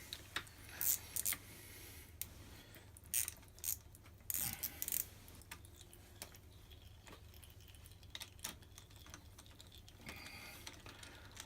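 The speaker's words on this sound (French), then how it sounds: "Et on termine par le démontage de la crépine" Oil strainer being removed from a 2017/2018 KTM 350 EXC-F motorcycle during an oil change, faint ratcheting and metallic clicking in short bursts with quieter tinkering between, close and low-level, no talking.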